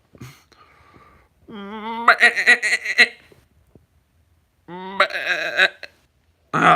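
A human voice imitates a goat's bleat in two wavering, quavering bursts separated by a short pause, with a brief chuckle-like sound between.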